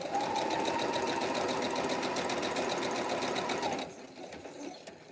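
A sewing machine runs steadily, stitching self binding on a small quilted mug rug. Its close, fast, even whirr lasts almost four seconds, then stops, leaving faint handling noise.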